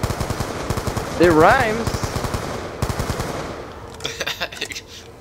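Rapid automatic gunfire in the Black Ops 2 zombies map Die Rise rattles in quick repeated bursts, loud and close, while players talk over it.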